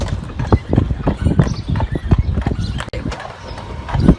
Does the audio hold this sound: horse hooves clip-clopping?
yes